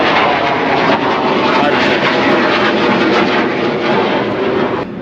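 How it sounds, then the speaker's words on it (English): A fighter jet flies by as a loud, steady roar that fills the whole stretch, broad and close, easing off slightly only at the very end. "fighter jet flying by."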